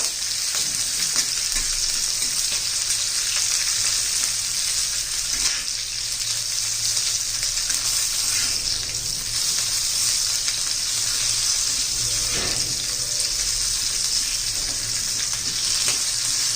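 Green chillies frying and sizzling steadily in a pan with oil, a dense continuous hiss that holds loud and even throughout with faint low stirring rumbles beneath.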